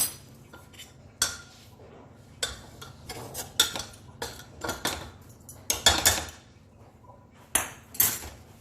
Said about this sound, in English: So just use the masher like this and mash it as much as you can